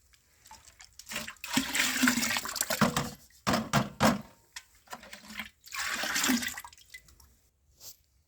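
Water pours and splashes in several bursts, sloshing as water-soaked soil is stirred in for a seed-treatment mix, with short quiet pauses between pours.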